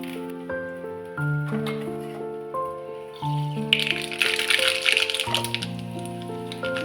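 Mustard seeds crackle and spit in hot oil in a kadhai for a mixed dal tempering, the popping thickening partway through beneath steady background music.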